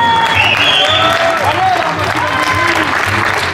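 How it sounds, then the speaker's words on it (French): An audience at a regional gaming and esports show applauds during a trophy presentation to FIFA champions, loud continuous clapping and cheering heard close up, with an amplified voice speaking over it. "Bravo, on peut l'applaudir."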